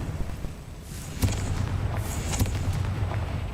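Two distinct magical blast effects from a Confringo spell burst in a video game, each a short sharp crack with a whooshing tail, heard over a low steady background hum.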